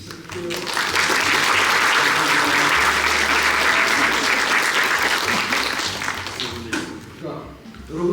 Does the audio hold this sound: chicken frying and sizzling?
no